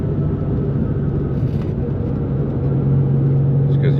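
A 2004 Nissan 350Z drives along with a steady, loud low engine drone and road rumble inside the cabin, holding a constant tone throughout.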